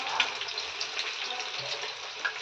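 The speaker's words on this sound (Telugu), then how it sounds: "సలసల మరిగెలో చేపలు ఎగ్జాక్ట్గా కాగుతున్నాయి, మంచిగా కాగుతున్నాయి." Masala-coated fish frying in hot oil, a steady close sizzle and crackle running through the whole stretch without pause, with a few sharper pops.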